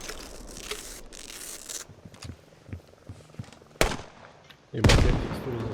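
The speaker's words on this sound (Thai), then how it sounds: "เดี๋ยวผมจะลองยิงระเบิดอัดบ้านหลังนั้นดูนะครับ" In the video game Squad, an explosive is fired at a house. Scattered battlefield crackle and distant gunfire lead to a sharp blast and then a heavier, sustained booming explosion, fairly loud against the background.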